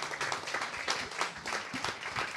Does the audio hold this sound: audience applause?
yes